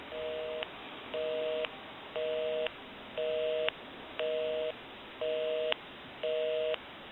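A Bell South single-slot payphone plays a busy signal: seven evenly spaced on-off tone bursts in a steady cadence, clear and narrowband through the handset with no talk.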